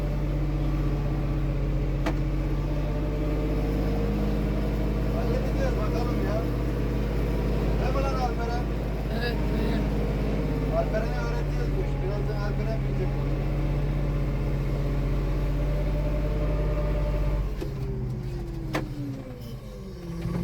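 An Erkunt shuttle tractor drives across a field pulling a plow, its engine a steady, loud, low drone that holds for most of the stretch before easing near the end, with someone talking over it.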